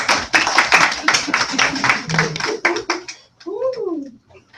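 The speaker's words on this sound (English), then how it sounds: "I'll give her a round of applause" Audience clapping at a crowd management training session, a burst of close, uneven hand claps that tapers off, followed by a brief voice.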